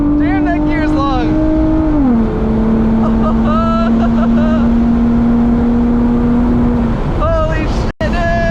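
Turbocharged Subaru BRZ accelerating hard through a long gear, a steady loud engine drone that holds one pitch for several seconds after a shift, with people talking over it.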